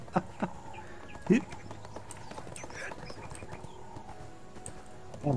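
Horse hooves in the ArcheAge video game, a few sharp, sparse clip-clop hits against a quiet ambient background, with people talking throughout.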